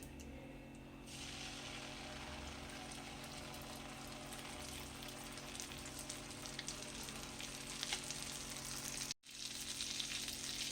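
Mustard paste hitting melted butter and oil in a pan sets off a steady, loud sizzle and frying hiss that runs continuously, with a brief sharp break near the end.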